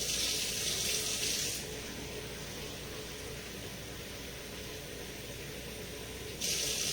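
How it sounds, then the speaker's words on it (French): Water pours steadily from a tap into a cooking pot, a loud hissing rush that softens after a moment, then grows stronger again near the end. "Je vais ajouter un peu d'eau parce que j'aurai besoin du jus de l'eau"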